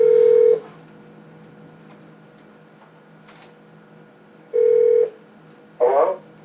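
A landline telephone being dialed by hand gives short steady tone bursts at the start and again near the end, followed by a brief burst of ringback, all close and clear with no talking.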